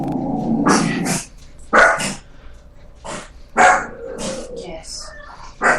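A dog barks loudly and close by in several short bursts, with brief pauses between them.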